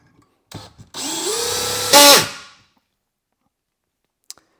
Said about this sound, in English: we'll do the same on the bigger drill here, the DCD800